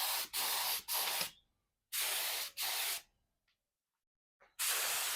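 Aerosol spray paint hisses in five bursts over an automatic transmission, each burst about half a second to a second long, separated by short silent pauses, loud and close.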